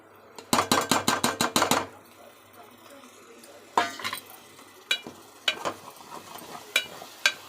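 Paneer curry with yogurt gets stirred in a pan: a quick run of sharp rhythmic clanks against the metal, then scattered scrapes and taps over a low simmer.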